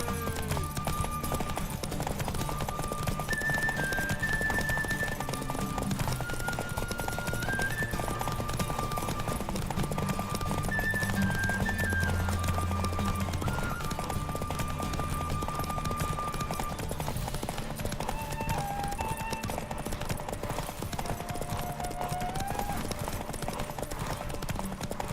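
Hoofbeats of Roach, a horse in the Witcher 3 Wild Hunt video game, galloping in steady rhythmic clip-clop under a continuous bed of game music, even in loudness for the whole stretch.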